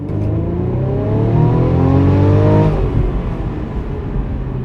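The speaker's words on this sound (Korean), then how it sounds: "어, 엔진 사운드도 괜찮네." A 2021 Mercedes-Benz E350 4Matic engine revs up loudly, its pitch climbing smoothly for a few seconds before easing off into a lower steady hum.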